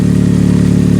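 A Pontiac Vibe GT's 2ZZ-GE engine breathing through a custom exhaust, holding a steady, close, droning note with a low pulsing rumble and no voices.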